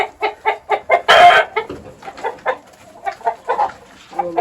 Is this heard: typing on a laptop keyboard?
no